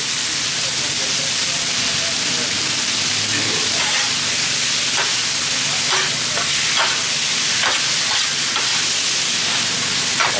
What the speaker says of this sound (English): I get that steak cooking, make sure I don't mix it up with the stir fry. I want to make sure it gets seared up over there.